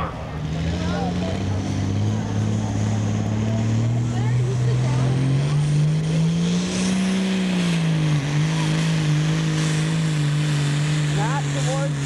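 Allis Chalmers D21 tractor from 2008 running at a tractor pull, its engine a loud steady drone with a rising and falling pitch throughout, with faint voices in the background.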